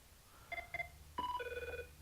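A phone rings nearby during a clear bra paint protection film install on a 2014 Audi S5: two short electronic chirps, then a longer warbling ring, fairly faint against a quiet room.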